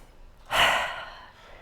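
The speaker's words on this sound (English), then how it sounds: "So I'm going to invite you just to take a breath." A single audible inhale, a soft breathy rush lasting under a second and then trailing off, taken alone during a guided pause at a live talk in Edmonton.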